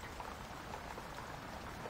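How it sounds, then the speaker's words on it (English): Heavy rain pours steadily in the naval submarine game Silent Hunter 5, a dense, even hiss with scattered droplet patter running unbroken at a low, constant level. "I can't hear anything over this rain"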